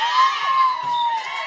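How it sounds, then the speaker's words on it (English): A girls volleyball team cheers for themselves in a gym, high-pitched voices holding one sustained, loud shout throughout. "girls, they cheering for themselves"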